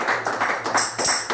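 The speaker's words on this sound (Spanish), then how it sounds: "Dele un aplauso al Santo." A church congregation claps in praise, short rhythmic bursts of hand claps close by, with a low sustained organ-like tone underneath.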